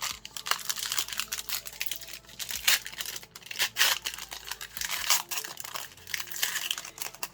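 Magic the Gathering Brothers' War premium bundle box being unwrapped, steady close crinkling and crackling of plastic and paper packaging with occasional tearing, continuous and moderately quiet, no talking.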